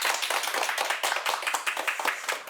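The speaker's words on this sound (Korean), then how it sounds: "오늘도 열정적으로 강의해 주신 신부님께 큰 박수 부탁드립니다." An audience claps for a priest who has just finished an enthusiastic lecture on the Book of Revelation, a steady patter of many hands, fairly close and continuous.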